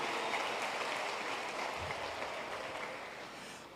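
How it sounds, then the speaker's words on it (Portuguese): A church congregation applauds during a sermon, a steady wash of clapping at moderate volume that holds evenly throughout. "mais uma salva de palmas para ele"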